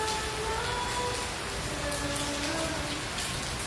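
Steady morning rain falls in a soft, even hiss, quiet and unbroken throughout, with no voices heard.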